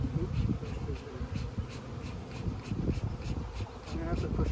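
Honey bees buzz steadily around open hives during a formic acid treatment, a dense continuous drone with scattered louder passes close by and light wind noise on the microphone.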